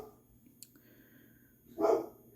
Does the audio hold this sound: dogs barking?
yes